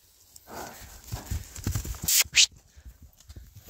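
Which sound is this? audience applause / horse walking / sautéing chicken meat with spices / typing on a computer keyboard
horse walking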